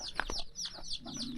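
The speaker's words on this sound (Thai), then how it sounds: "นี่ไก่เพิ่น" Chickens cluck at a rural Thai home with vegetable plots, several short clucks and calls in a quick irregular run, close and moderately loud against faint outdoor background.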